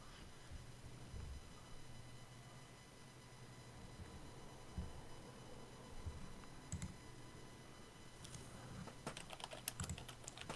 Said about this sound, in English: Paul is typing like a madman